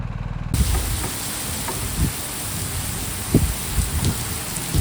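Rain during a motorcycle ride, a continuous broad hiss of falling water with scattered low thumps and taps, loud and close, following a brief quieter engine passage at the start, no voices.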